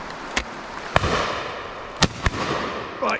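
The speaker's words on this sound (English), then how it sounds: "so I've got one shot left." Shotgun shots fired at high pheasant on a driven shoot, several sharp loud bangs at irregular intervals, some distant, over open-air outdoor ambience.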